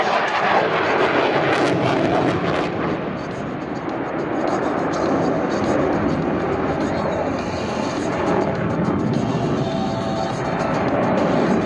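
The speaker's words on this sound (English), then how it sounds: "they'll roll the aircraft into 90 degrees of bank and abruptly pull away from the ground" A US Navy F/A-18 Super Hornet on a flight demonstration roars continuously as it rolls into a steep bank and pulls away from the ground, a loud, sustained, rumbling jet sound dominating throughout.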